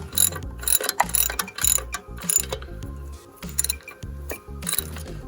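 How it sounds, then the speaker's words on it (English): A hand ratchet tightens a banjo bolt on the engine of a 1995 Dodge Ram 2500, giving rapid, close clicking in repeated short strokes with brief pauses between them. "I'm just gonna now finish tightening up the banjo on the top here."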